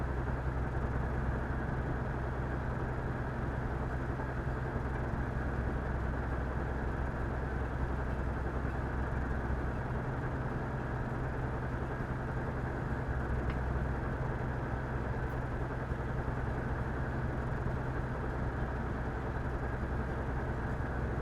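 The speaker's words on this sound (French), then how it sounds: "Tant que vous entendez ce bruit-là, c'est que le rayon tracteur fonctionne toujours." A steady, dense mechanical hum of a tractor beam on an Argo SRV ship in the game Star Citizen drones on without change, loud and continuous, with no voices over it.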